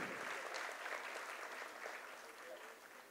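Audience applause at a school annual showcase welcomes a guest to the stage, a steady broadband wash of clapping that holds fairly constant and fades slightly toward the end.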